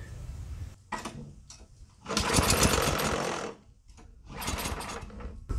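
A Yardworks snow blower engine, primed with starter fluid, cranks in loud mechanical bursts, with one long rough stretch of sputtering, a brief pause, then another rattling attempt up close.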